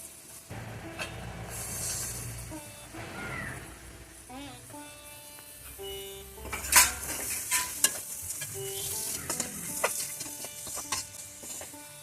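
Sliced onion goes into a pan of roasted spice powders while cooking beef, frying with a soft sizzle and scraping, clattering stirring, plus a few sharp metallic clinks; a voice talks intermittently over the cooking.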